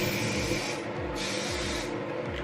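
Hairspray is sprayed onto a styled hairdo in a continuous hissing burst that runs steadily and close for a couple of seconds, with slight rubbing underneath.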